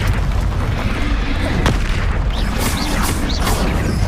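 A Confringo fire spell explodes in a Hogwarts Legacy duel, a loud, dense blast of booming rumble with sharp cracks and bursts that fill the whole stretch without pause.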